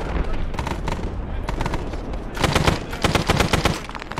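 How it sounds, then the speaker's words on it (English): Automatic rifle and machine-gun fire in Arma 3 Vietnam, with loud, rapid bursts in clusters, some short pauses between volleys, and a voice talking over the shooting. "Let me just speak and fire my gun at the same time."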